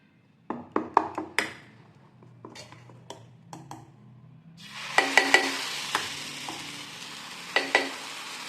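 Dosa batter cooks in oil on a pan, a soft sizzle rising into a fuller frying hiss, punctuated by sharp clinks and scrapes of a utensil against the pan.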